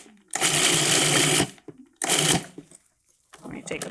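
Food processor pulsing coarsely chopped garlic, two loud whirring bursts of about a second each separated by a short gap, then a quieter rattle at the end.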